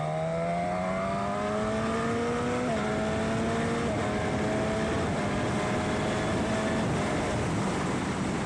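Suzuki GSX-S1000 Katana motorcycle with a quickshifter accelerating hard in second gear, its loud, close engine note climbing in pitch with several quick clipped shifts along the way.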